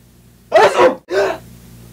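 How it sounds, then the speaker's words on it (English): A person in a sneezing fit lets out a close, loud two-part sneeze, a sharp inhaled burst followed by a quick explosive release, with quiet before and after. "I think I have to sneeze again"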